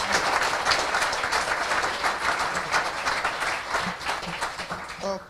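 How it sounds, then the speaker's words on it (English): A crowd at a tech talk on AI applauds a speaker, a dense, steady wash of clapping that thins slightly near the end, where a voice briefly begins. "give him a big applause"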